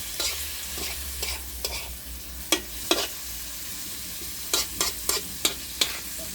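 Bihon rice noodles with pork are stirred in a frying pan over a low, steady sizzle, with a spatula scraping and clacking against the pan in irregular strokes that come in bunches, and no talking.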